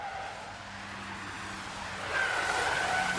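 A car with standard suspension drives a wet slalom course, its tires squealing in a rising, sustained screech over steady road and engine noise; the squeal grows louder in the final second.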